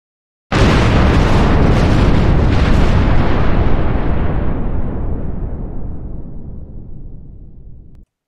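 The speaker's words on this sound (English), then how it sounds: "The cataclysmic explosion tore the night apart." A massive explosion erupts suddenly and roars on for several seconds, a dense wall of rumbling noise that slowly fades away.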